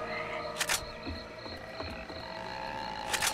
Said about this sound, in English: I may or may not have changed the witch sound to be the grudge.